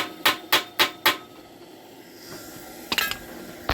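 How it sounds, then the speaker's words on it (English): Four loud, evenly spaced hammer strikes ring out on a small metal biomass gasifier, then a pause, then a few more quick clanging blows on metal. "Okay, now let's hammer it violently."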